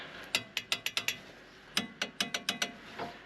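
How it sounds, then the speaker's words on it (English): A torque wrench ratchets on the wheel bearing bolts of an Audi Q5 during front bearing replacement: two quick runs of crisp metallic clicks, about six each, close and moderately loud with a short pause between. "Let's go back on the vehicle, get this torqued up."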